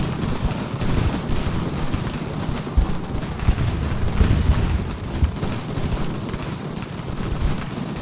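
Artillery fire in the strategy game Ultimate General: Revolution, a dense, continuous rumble of booming cannon blasts and explosions with crackling bursts, loud and alone.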